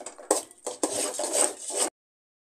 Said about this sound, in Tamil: கட்டியாக இருக்கிறது இந்த கடலப்பருப்பை நல்லா கிண்டி விட்டுக்கலாம்